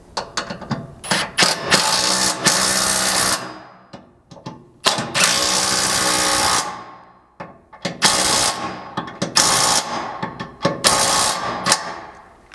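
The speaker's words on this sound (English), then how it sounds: "using our 17mm, we can come back and tighten the hitch bolts into the frame" A 17mm wrench ratcheting as bolts are tightened into a Toyota Tundra truck frame while a rear bumper and hitch are fitted, loud close clicking bursts repeating in several runs with short pauses between them.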